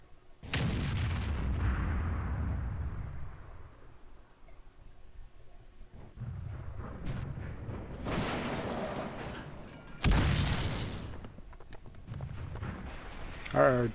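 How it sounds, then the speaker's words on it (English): Artillery shells in World of Tanks, fired around a Panther Tier VII medium tank, land as several heavy booming blasts with long rumbling tails, the strongest hits near the middle and end, mixed with a low engine drone. "Our artillery is trying to kill this vehicle."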